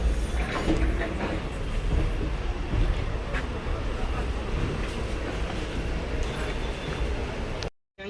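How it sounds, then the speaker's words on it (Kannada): A passenger train in motion carrying a group of friends on a trip to Tirupati, heard from inside as a steady loud rumble and rattle that runs nearly unbroken before cutting out at the end. "ಸೊ ಗೈಸ್, ಟ್ರೈನ್ ಹತ್ತಿದ್ವಿ, ಟ್ರೈನ್ ಹೊಡ್ತು ನೋಡಿ"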